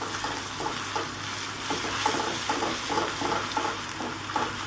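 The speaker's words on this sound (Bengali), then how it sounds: "এবার মশলাটা একটু ভেজে নেব" Ground cumin, coriander and chilli powder fry with onion in a pan for a prawn and potato curry, giving a steady close sizzle with soft scraping from stirring throughout.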